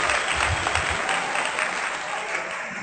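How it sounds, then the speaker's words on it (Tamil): Audience at a festival stage debate event bursts into clapping and cheering, a steady close wash of applause lasting throughout with some crowd voices. "கைகளை தட்டி கொஞ்சம் ஆரவாரம் செய்தால் போதும்"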